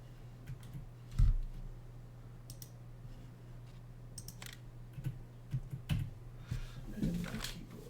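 Scattered computer keyboard keystrokes tap irregularly and fairly close, faint clicks over a steady low hum from the room.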